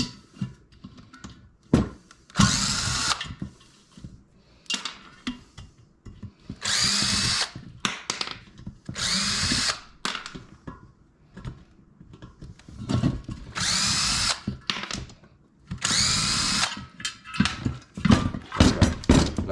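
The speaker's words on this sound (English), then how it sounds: "I'm going to start removing screws wherever I see them. Remove all these screws here." A power drill or driver backs screws out of a ceiling fan being stripped for copper scrap, in repeated loud whirring bursts of a few seconds each, separated by clinks and handling noise.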